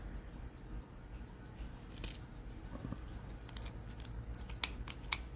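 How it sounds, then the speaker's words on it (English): Scissors snip through yarn while trimming a spawning mop for fish breeding, a few quiet close cuts that cluster into a quicker run of crisp snips near the end. "These scissors aren't the best either."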